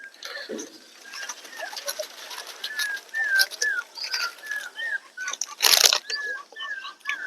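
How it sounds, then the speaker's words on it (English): Many birds gathered outdoors fill the air with repeated whistled calls and chirps at varying distances, joined by a brief burst of flapping wings and occasional light patter, with no talking over them. "Now today many birds have come here today."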